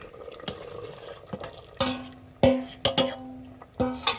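Cooked oil-free vegetables, a dal torkari with jackfruit seeds, tipped into a pot, heard as a series of sharp metallic clanks and scrapes of a utensil against the pot with short ringing tones between quieter moments.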